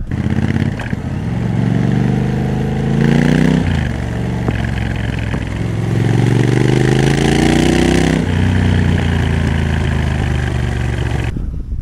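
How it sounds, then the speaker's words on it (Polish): Triumph Scrambler 1200 XE parallel-twin engine revving through its high-mounted exhaust pipes, loud and close, with several rising and falling throttle blips over a steady idle rumble. "Te rury wydechowe puszczone górą, nie dość, że zaje fajnie brzmią"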